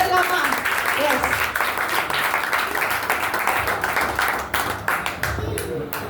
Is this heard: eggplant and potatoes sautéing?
no